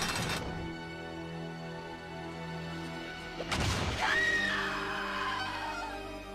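A scream in an episode of the TV series Angel: a sudden loud, drawn-out cry bursts out over tense music, preceded by a crash-like hit and followed by a lingering high tone.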